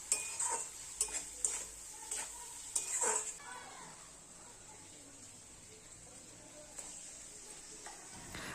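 Chicken kosha with tomato and salt is stirred in a pan, with a few sharp spoon scrapes and clinks against the metal at first, then a soft, quiet sizzle carrying on underneath.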